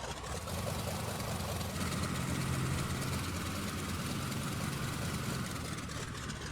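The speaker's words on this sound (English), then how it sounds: "Let's taxi out to the runway and get flying." A Sukhoi Su-31 propeller engine in Microsoft Flight Simulator runs at a low steady rumble while taxiing, holding an even drone throughout.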